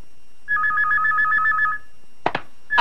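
A telephone rings once in a rapid trilling electronic burst lasting over a second, followed by a short clatter as it is picked up, in a quiet room in a Filipino action film.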